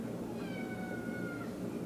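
A cat lets out one drawn-out meow, clear and fairly close over steady background noise.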